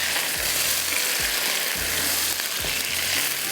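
Tomatoes and paste sizzle loudly in a pan, with a steady broadband hiss and occasional soft scraping strokes as a spoon stirs the mixture.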